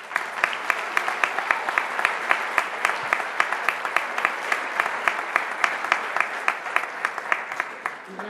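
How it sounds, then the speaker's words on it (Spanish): Strong audience applause at a Lenten concert in a Spanish town, a full, sustained roar of many hands clapping, with some distinct nearby claps keeping a rough rhythm before it tapers off at the end. "Un fuerte aplauso"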